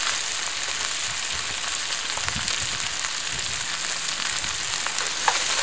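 Chopped onion fries in a pan in its own fat, a steady bright sizzle with faint crackles, continuous and close throughout.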